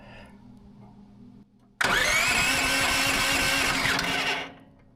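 Range Road board edger engine bursting into a loud steady run at half throttle after a quiet lull, holding for a few seconds before cutting back down.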